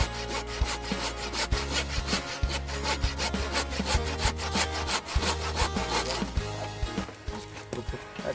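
A hand saw cuts through wood in steady, rhythmic back-and-forth rasping strokes, close and loud, with no talking.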